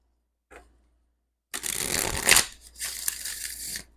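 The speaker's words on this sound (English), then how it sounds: "That was a much better shuffle." A brief tap, then a rapid riffling shuffle of tarot cards close up for a couple of seconds, followed by softer card handling.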